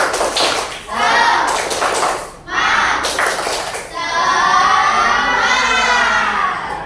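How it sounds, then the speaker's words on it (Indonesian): A classroom of schoolchildren chants a tepuk semangat clapping routine, loud shouted voices in unison broken by bursts of rhythmic claps, close and energetic. "Ayo tepuk semangat."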